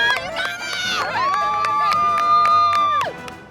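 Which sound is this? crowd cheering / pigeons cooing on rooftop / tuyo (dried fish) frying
crowd cheering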